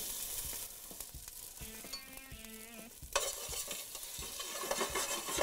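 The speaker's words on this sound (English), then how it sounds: "We'll add the pancetta to the pan." Pancetta hits a hot pan for duck bolognese, then sizzles and crackles; there are clinks and scraping before a louder hiss starts about midway and keeps building, close and with no talking.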